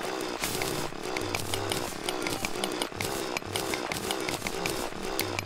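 Mining drill chewing through silt in Terraria, a loud, continuous buzzing grind with steady rhythmic pulses and no talk.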